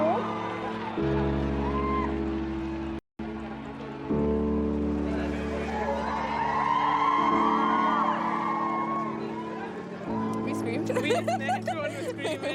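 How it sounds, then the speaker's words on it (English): A crowd outside St. Mary's Hospital screams and whoops as the royal family emerges with a new baby, loud continuous cheering and yelling close by, with a brief cut in the middle and shrill shrieks rising toward the end. "Everyone was screaming, trying to get the pictures and videos."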